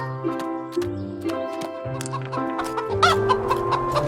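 Several chickens cluck and chatter close by in a steady stream of short calls, growing busier toward the end.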